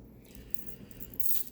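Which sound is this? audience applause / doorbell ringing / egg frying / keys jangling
keys jangling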